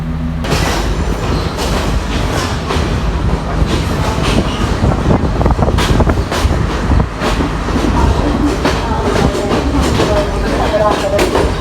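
A train from Kandy toward Colombo, Sri Lanka, rumbles steadily along with rhythmic clattering of wheels on track, loud and close, with faint voices mixed into the constant noise.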